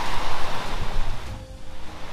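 Dimosari waterfall on Lefkada rushes with a broad, loud roar of falling water that swells and dips, with some wind buffeting the microphone nearby.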